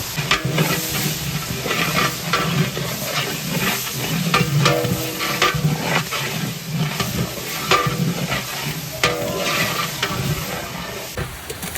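Onions sautéing in a large catering pot for a 15 kg vegetable biryani, with steady sizzling and frying hiss and repeated scraping stirs of a ladle, close and fairly loud, no talk.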